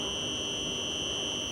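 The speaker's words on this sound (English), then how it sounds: "that is the sound of the electric current moving from the junction boxes to the inverter" An electrical whir from a solar panel system, as current runs from the junction boxes to the inverter: a constant high-pitched electrical whine over low background noise, with no talking.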